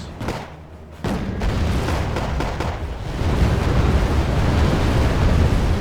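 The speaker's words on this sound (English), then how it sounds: "Lots of artillery trying to get in there." Artillery in the war strategy game Wargame: AirLand Battle, a dense continuous rumble of distant explosions and booms that swells louder partway through, with no voices.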